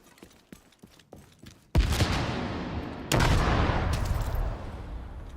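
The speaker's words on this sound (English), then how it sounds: "Yes, stop shooting, please." Video game gunfire, a few light sharp shots followed by two heavy loud blasts with long rumbling tails.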